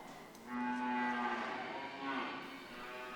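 A single cow lets out one long, loud moo inside an open cattle shed, steady and close, with no voices.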